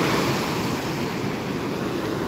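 Ocean surf washes steadily onto a beach at Banda Aceh in Aceh, a continuous close hiss and roar of breaking water mixed with gusty wind buffeting the microphone, with no voices.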